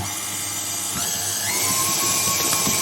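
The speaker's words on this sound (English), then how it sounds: "And if I turn back on the mixer" A stand mixer kneads naan dough about eight minutes in, whirring steadily and loudly with a high motor whine and faint knocks and bumps from the dough, gradually getting a little louder, with no voices.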